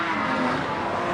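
Race cars roar around an oval track on a late lap, a continuous, dense engine drone at moderate level with no break.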